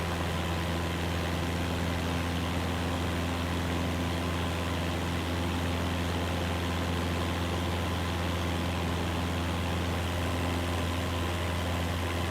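A simulated aircraft engine from Microsoft Flight Simulator 2024 on PS5 hums in a steady, unbroken low drone that holds at an even level throughout, with no voices over it.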